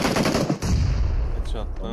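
Rapid automatic gunfire in a video game shooter, a burst of loud, close shots followed by a few scattered reports and clicks.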